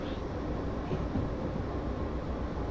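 Train running in the Derail Valley simulation game, a low steady rumble and rolling hum with no distinct clanks, constant in level and moderately quiet throughout.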